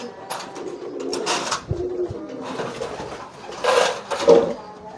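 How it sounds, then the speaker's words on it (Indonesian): A parent pigeon tending eggs coos in low, rounded bursts close up, with a few louder calls near the end and some rustling between them. "Ini merpati indukan."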